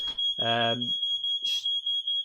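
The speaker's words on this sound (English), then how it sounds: "the fire alarm goes off because the missus is cooking" A household smoke alarm sounds at home while someone cooks, a steady piercing high tone running throughout with short pulsing beeps, loud and close, as a voice talks over it.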